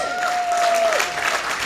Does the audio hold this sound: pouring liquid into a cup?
no